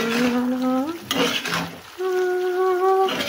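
Fried eggplant and plantain are stirred in a pan for shukto. A short burst of scraping and sizzling sits in the middle of the clip, framed by a steady tonal hum.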